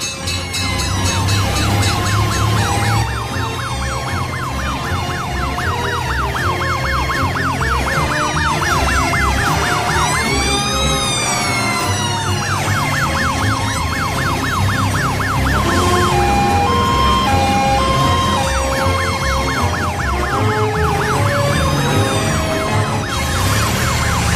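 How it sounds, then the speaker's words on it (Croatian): An emergency siren wails loudly and continuously, its rising and falling tones sweeping over engine rumble and other busy sounds. "Sirene glas! Javlja stiže spas!"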